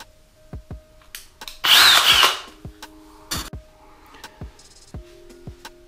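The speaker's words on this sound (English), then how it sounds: "You're gonna want a good masonry bit to go through the tile." A power drill fitted with a masonry bit bores through bathroom wall tile while a sliding shower door goes in, giving one loud grinding burst of about a second amid scattered knocks and handling clicks.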